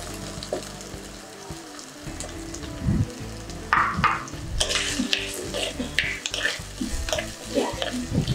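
Onions sautéing with a pinch of salt in a pan for a Kerala theeyal curry, a steady close sizzle broken by repeated scraping stirs and clanks of a spoon against the pan, with no talk.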